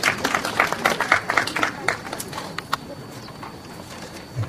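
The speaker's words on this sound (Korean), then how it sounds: "큰 박수로 맞아주시기 바랍니다" Audience at a literary award ceremony clapping to welcome a singer, starting as dense, lively applause with distinct individual claps, then thinning to scattered claps and fading out.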